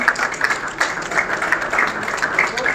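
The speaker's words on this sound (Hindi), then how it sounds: "तालियां रुकनी नहीं चाहिए" An audience claps steadily at a Jammu event where a Union Minister of State, Dr Jitendra Singh, is chief guest. The applause is a dense, continuous patter of many hands, moderately loud and unbroken throughout, with no clear speech.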